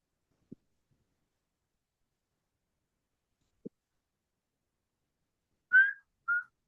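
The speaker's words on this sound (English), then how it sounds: "Wait, why are you whistling?" Two short whistled notes near the end, a rising one followed by a brief second, after a mostly silent stretch with two faint clicks.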